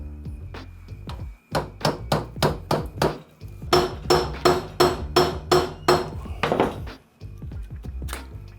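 Hammer tapping a new axe handle into the head, a run of about twenty sharp, ringing blows in quick steady bursts, close and loud, with short pauses between groups.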